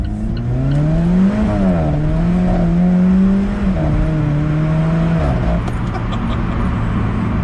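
A lightweight rear-wheel-drive Alfa Romeo 4C fitted with wheel spacers accelerates hard, engine note rising through the revs, dipping and climbing again as traction control cuts in and out, loud and close inside the car.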